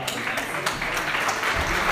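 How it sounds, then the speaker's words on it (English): Audience applause at a startup pitch event in Berlin honoring the third-place winners, a dense, close, continuous clapping with some voices mixed in. "Big applause for the third place."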